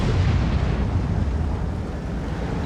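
A heavy artillery shot booms in a tank video game, a loud low blast with a rumbling tail that slowly fades over a couple of seconds.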